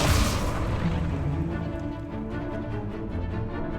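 A fire spell cast in the Hogwarts Legacy video game: a loud burst with a whooshing, booming onset that rolls into a sustained crackling roar, alone without voices.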